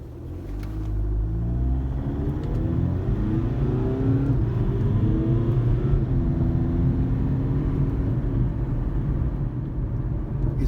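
A cold, not-yet-warmed Audi A3 with 93,000 miles accelerates, its engine giving a steady, loud low rumble with rising and shifting harmonic tones throughout, heard from inside the car.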